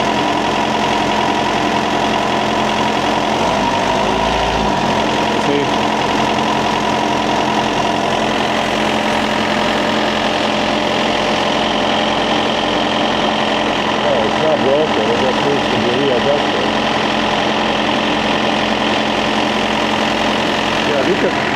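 A truck's refrigeration unit engine idles with a loud, steady, vibrating drone and a knocking pulse while its high-idle solenoid has come loose, running continuously from start to finish.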